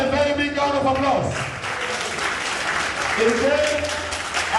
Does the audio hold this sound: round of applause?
yes